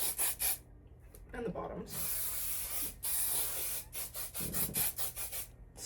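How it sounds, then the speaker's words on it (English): Hairspray hisses in several long, loud bursts onto freshly crimped hair, with short spritzes in between, close to the mic; a person speaks briefly. "Hairspray a ton."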